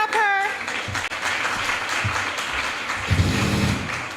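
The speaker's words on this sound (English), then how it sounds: "Come on, clap her." An audience claps for a student at the Montego Bay High School annual prize giving ceremony. The applause is full and sustained, with a brief voice at the start and murmurs partway through.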